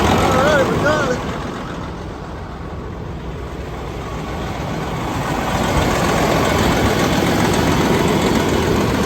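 A heavy truck engine cranks and catches in cold weather, then settles into a loud, continuous low rumbling idle, close by.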